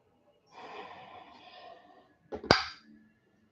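A single die hits a hard surface during a board wargame and rattles briefly, close and sharp, after a soft breathy stretch of room noise.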